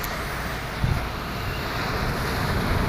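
Steady wind and surf at the seashore roar continuously with rumbling wind buffeting on the microphone, one brief louder gust, no talk.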